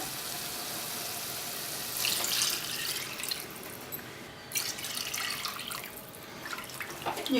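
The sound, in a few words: pouring water into cooking pot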